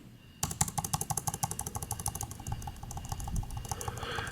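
Rapid, steady typing on a Cherry KW7100 wireless keyboard with crisp clicky keystrokes, close and continuous for several seconds over a faint background hum.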